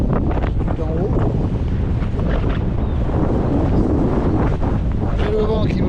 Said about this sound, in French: J'ai le vent qui me pousse le vélo autour de moi.